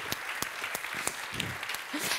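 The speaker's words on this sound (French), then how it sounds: "On peut l'applaudir" An audience at an analytics business forum gives light, scattered applause, individual claps standing out sharply against a soft wash of hands, fairly faint and distant.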